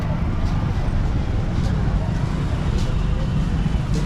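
Steady road traffic rumble from a jam of vehicles queued before a bridge on the route to the Kumbh Mela in Prayagraj, a continuous dense low drone with crowd murmur mixed underneath and faint brief higher hisses.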